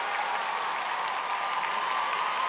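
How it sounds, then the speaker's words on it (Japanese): Arena crowd cheering and applauding at the 2016 Four Continents figure skating men's free skate for Patrick Chan, a loud continuous roar of many voices and hands with no break. "そしてなんと大きな歓声でしょう"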